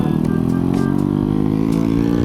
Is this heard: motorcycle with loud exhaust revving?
yes